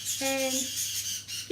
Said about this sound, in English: I'm sorry about my birds if you can hear them.